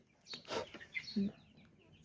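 A sick hen gives a few soft, low clucks at close range while sitting, with quiet rustling around them.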